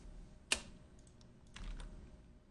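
Computer keyboard typing nearby, a sharp single key strike followed by a quick cluster of lighter keystrokes over faint background hum.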